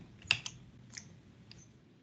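Several sharp, separate key clicks from typing on a computer keyboard while coding, close and fairly faint, alone without talk.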